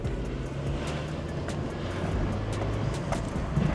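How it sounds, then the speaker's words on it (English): A misfiring Vauxhall Corsa drives along, its engine giving a steady, moderately loud broadband drone with a few sharp ticks on top and no speech. "you hear the little tsh, but you don't really hear it building any boost though"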